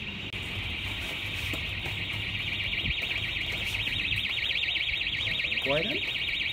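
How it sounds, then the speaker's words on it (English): A smoke alarm goes off outdoors at a winter skate session, a steady loud electronic tone that holds throughout with a warbling pulse near the end, while people talk close by. "No, alarm start going off."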